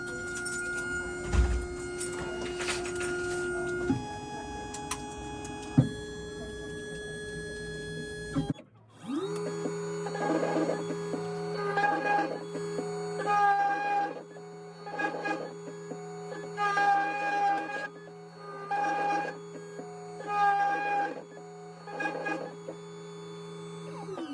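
A locksmith's automatic key cutting machine running a programmed code, whining motor tones and stepped mechanical hums followed by rhythmic grinding and cutting pulses, close and steady, with no talk.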